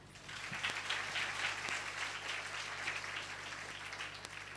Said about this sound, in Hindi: अब ताली बजाइए।